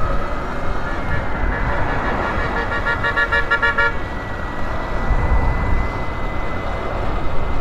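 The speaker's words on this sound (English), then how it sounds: "Is that a good honk or a bad honk?" A car horn sounds one sustained honk lasting about a second over constant rumbling road traffic.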